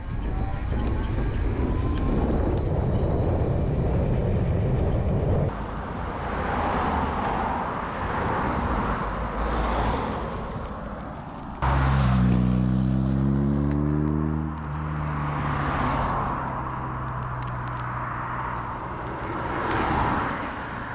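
A trike on an open road shifts into fifth gear and accelerates, its engine drone loud and steady under heavy wind rush, with a clear rising pitch sweep after the shift.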